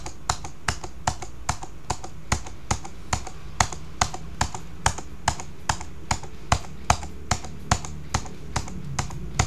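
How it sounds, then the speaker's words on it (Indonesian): Computer keyboard keys, the Enter key pressed over and over, while calculating landfill volume for TPA Sarimukti: a steady run of sharp, close clicks roughly every half second with no voices. "Setelah itu tinggal di enter sampai selesai, nggak ada enter lagi"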